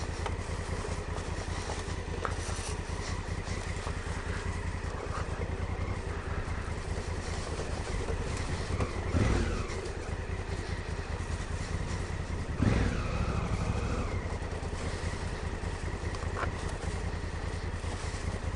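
Honda Africa Twin motorcycle picking its way off-road through tight woods, the engine burbling at low revs in first gear with a couple of brief throttle surges, steady and close with no talk.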